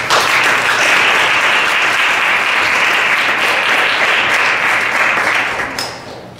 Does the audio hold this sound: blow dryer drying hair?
no